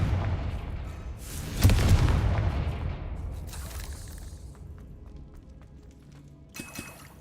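A Confringo fire spell in Hogwarts Legacy erupts as a heavy boom with a long crackling decay, followed by scattered smaller pops and a brief later impact.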